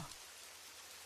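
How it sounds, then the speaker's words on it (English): Gentle, persistent rain falls in a woodland clearing as a soft, steady hiss, faint and even throughout with no voices. "The rain still fell,"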